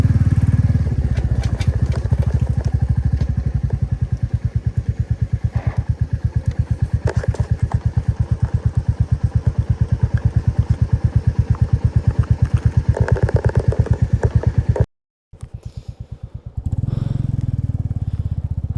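A motorcycle rides a muddy road with failing brakes, its engine a loud, rapid throbbing putter that chugs steadily up close, cuts out abruptly for a moment, then sputters back to life.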